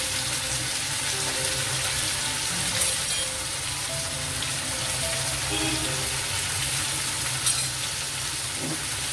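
Ginger garlic paste frying in a pan, a loud continuous sizzle with occasional stirring scrapes and clinks, no speech.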